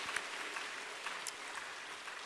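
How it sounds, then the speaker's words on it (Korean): A church congregation claps together after a scripture reading, a soft, dense, fairly distant patter of many hands that holds steady throughout. "우리 하나님께 영광의 박수 드리겠습니다."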